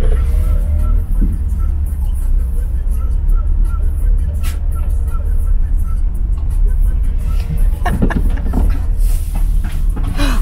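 A Trabant 601 car pulls away, its loud, rough engine rumbling steadily and close throughout, with scattered knocks and rattles and voices in the background.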